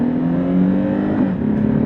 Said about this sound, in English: to cancel out the motorcycle noise, the motor noise